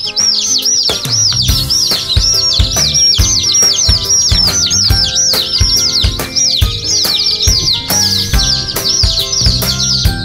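A dense, loud chorus of young chicks peeping continuously in brooder compartments holding layer and meat birds, rapid high chirps overlapping throughout with soft knocks and shuffling underneath.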